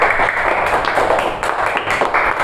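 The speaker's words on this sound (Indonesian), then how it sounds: "Tepuk tangan buat kita semua saja yo." A classroom of students applauds together, a steady, dense patter of many hands clapping close by for a couple of seconds without pause.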